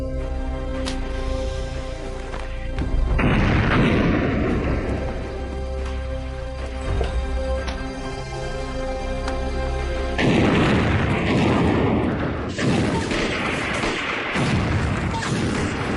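Grenade blasts in an Indonesian action film fight scene: heavy booming explosions burst out at intervals over a constant loud rumbling bed of battle noise, with rushing debris-like noise after each blast.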